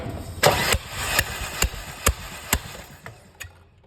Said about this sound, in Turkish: Basalım usta marşa.